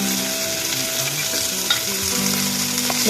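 Tomatoes, bay leaves and green chillies fry in a hot pan with a loud, steady sizzle, broken by a few scrapes and clinks of stirring; no one speaks.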